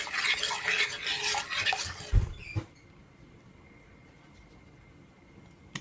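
A spoon scrapes and swirls through a thick chili sauce mixture for about two seconds, ending with a couple of clinks, then near silence follows.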